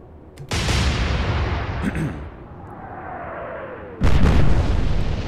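In the Atlantic Fleet naval video game, heavy naval guns fire and an explosion destroys a turret. Two loud booming blasts come several seconds apart, with a fading rumble and a whistling sound between them.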